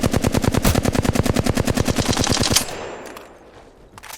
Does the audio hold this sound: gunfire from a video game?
yes